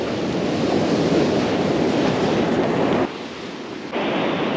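Sea waves break and wash steadily onto an Australian fishing beach, a loud continuous roar of surf with wind buffeting the microphone, dipping briefly before surging back.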